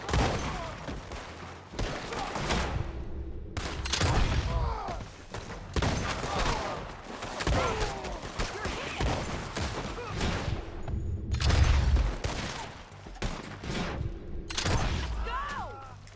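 Rapid volleys of gunfire and sharp thuds in a Red Dead Redemption 2 shootout, repeated bursts across the whole stretch, loud and close, with shouted speech in between.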